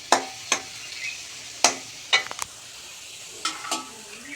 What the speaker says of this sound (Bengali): একটু ঢেকে ঢেকে ভাজি, বেশ সুন্দর মুচমুচে করে ভাজা হয়ে যায়